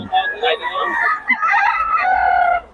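A stag rooster crows once, close and clear, in a single drawn-out call with voices nearby.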